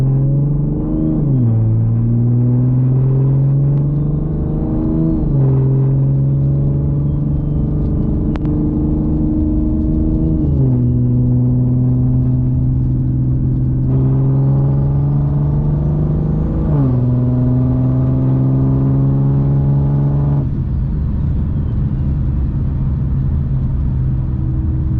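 A car with methanol injection accelerates on a test drive, engine revving up through several gear changes in repeated rising sweeps, loud and close from inside, with no talk.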